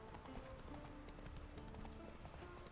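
A horse's hooves gallop in The Witcher 3 video game, a quick, continuous clip-clop rhythm that stays fairly faint and even from start to finish.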